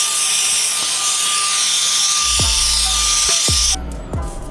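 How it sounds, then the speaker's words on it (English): A HOTO compressed air capsule blows steadily through a low profile nozzle, a loud continuous high-pitched rushing hiss lasting several seconds with a few sharp clicks, then cutting off near the end. "We are going to do a blow test with the low profile."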